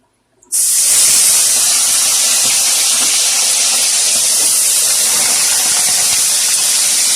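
Chicken dropped into hot oil in a pan, the sound jumping from silence into a loud, sustained, bright hiss and spatter that holds steady at close range with no talking.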